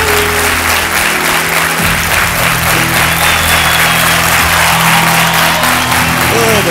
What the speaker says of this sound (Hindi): मैं चाहता हूँ कि तालियों के साथ उनका स्वागत किया जाए।